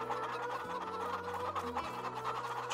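Chickens in Farming Simulator 22 cluck steadily and loudly throughout, several birds overlapping in a dense, continuous chatter over a sustained low background hum.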